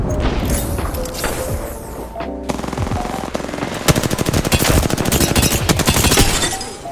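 Gunfire from squads fighting in the Apex Legends video game: bursts of rapid automatic fire and single shots, dense and loud, building into a sustained rattling volley with booms near the middle.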